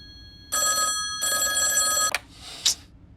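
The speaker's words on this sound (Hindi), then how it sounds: "अरे ये फोन भी ना कभी भी बज जाता है।" An old-style telephone bell rings in two bursts, followed by a brief click and a soft rustle. The room is otherwise quiet.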